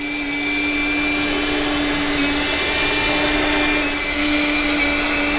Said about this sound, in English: So I use my trusty train vacuum cleaner to go down the back